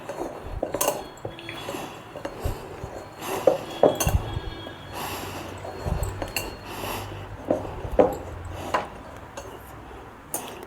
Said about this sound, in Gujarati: હવે આપણે એને મિક્સ કરી લઈશું એકદમ.